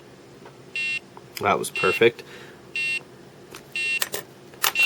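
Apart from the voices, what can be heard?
Nintendo Game & Watch alarm beeping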